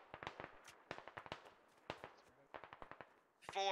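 Distant gunfire pops in quick irregular clusters on a frozen battlefield in the Squad video game, sharp faint cracks scattered across a quiet background, ending with a brief closer buzzing burst.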